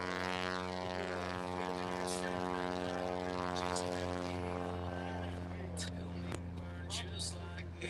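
Propeller aircraft rolling out after touchdown with full flaps at the Oregon International Airshow, McMinnville Airport: a steady, humming engine drone with a strong tonal whine, overlaid by a commentator talking and a few sharp clicks.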